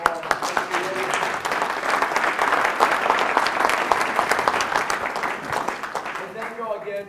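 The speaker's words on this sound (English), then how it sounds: "Let's give William Renfrow a round of applause." A chamber meeting audience breaks into applause, a dense and fairly close patter of many hands that swells and then thins toward the end, with voices faintly under it.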